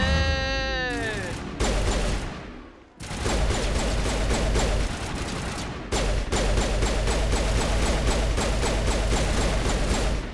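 Rapid continuous gunfire in a sci-fi video game, loud and close, with dense repeated shots and a brief pause, plus warbling electronic effects at the start.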